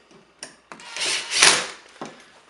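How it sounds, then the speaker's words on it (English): A screwdriver grinds and squeaks as it tightens the green ground screw on a household dimmer switch, a few close clicks followed by a longer rising scrape, heard alone. "Tighten down the green screw."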